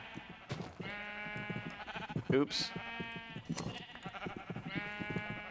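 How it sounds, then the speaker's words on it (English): Sheep bleat repeatedly in the Minecraft video game, a flock including black sheep, with several bleats close together under and between a man's brief spoken remark. "there's a lot of black sheep"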